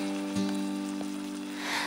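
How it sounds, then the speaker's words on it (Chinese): Yellow rice wine poured slowly down the side of a clay pot of pork ribs, producing a brief soft sizzle and patter over a steady hum, close by. "把黄酒沿下锅边慢慢淋进去"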